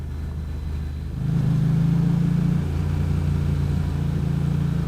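A motorcycle engine hums steadily, then rises in a sustained acceleration and settles into a steady throttle while riding through a corner, loud and close with no voices.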